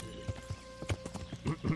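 Horse hooves clop on the ground in the Kingdom Come: Deliverance video game, a quick uneven series of about eight close footfalls over a low game hum with faint tonal music.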